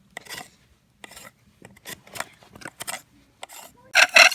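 Wood rasps in short, uneven strokes along a groove as a friction fire is attempted, each scrape a separate burst with pauses between, close and fairly quiet, the last strokes louder; no talking.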